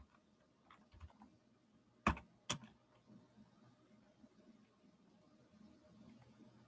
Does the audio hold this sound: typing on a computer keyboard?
yes